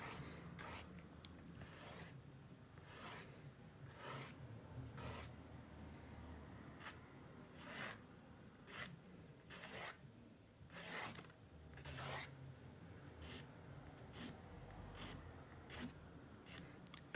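A pencil sketches light guidelines on paper for a mountain scene. The strokes sound as quiet, close, scratchy rubs in an irregular rhythm of repeated short swipes, with no talking over them.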